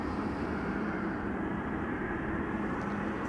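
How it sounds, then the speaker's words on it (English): A Tarom Boeing 737-800 arriving from Bucharest at Amsterdam Schiphol Airport, its steady broadband jet roar filling the whole stretch at an even, moderately loud level with no talk. "361. 737-800, arriving from Bucharest."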